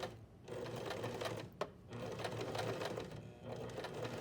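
A sewing machine runs in short bursts while sewing a pivot stitch, a close rapid mechanical whir with brief pauses and a click as the fabric is turned.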